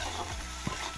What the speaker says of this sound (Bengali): জিরের গুঁড়ো, হলুদ, লবণ, লঙ্কার গুঁড়ো, ধনের গুঁড়ো দিয়ে মশলাটা ভালো করে কষিয়ে নেব।